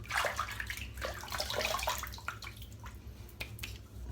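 Water runs and splashes while a shaving razor is rinsed off, a close, continuous rushing flow broken by a few clinks and drips as the razor is moved under it.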